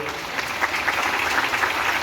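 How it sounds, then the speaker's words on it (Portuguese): A church congregation claps steadily and densely for about two seconds, a continuous, fairly loud patter of many hands with no talk over it. "Você pode aplaudir a Deus pela vida do seu pastor."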